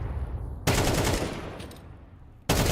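Bursts of automatic gunfire from a Counter-Strike match, loud and dense, a sustained volley cutting off abruptly before another burst starts at the end.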